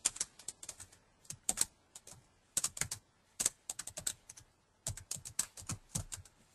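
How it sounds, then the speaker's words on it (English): Someone types a name on a computer keyboard, with clusters of crisp, close key clicks in irregular bursts separated by brief pauses, and no talk. "Just have to type in a unique name."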